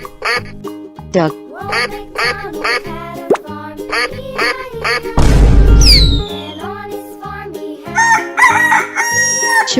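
A rooster crows amid lively children's music with a rhythmic beat, alongside quacking and other cartoon farm-bird calls and a brief burst of noisy sound effect in the middle.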